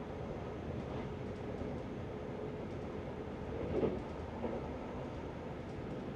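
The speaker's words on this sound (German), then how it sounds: "Der Zug läuft sehr ruhig," Dutch InterCity double-deck train running, heard from inside a first-class compartment as a steady, quiet low rumble with faint track noise throughout, no talking.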